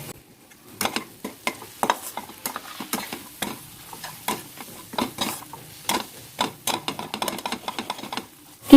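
Chicken frying with turmeric, cumin and salt in a pan, stirred in brisk repeated scrapes and clicks of a spoon against the metal over a low sizzle, close and fairly loud, no voices.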